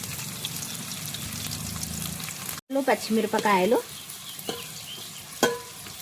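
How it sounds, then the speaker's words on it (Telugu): Green chillies and onions frying in oil in a pan while being stirred, a steady close sizzle with scraping stir strokes, brief pause then more stirring. "బాగా గోల్డెన్ బ్రౌన్ కలర్లో వచ్చే వరకు వేగనిద్దాం. అడుగంటకుండా మనం ఇలా కలుపుతూనే ఉండాలి."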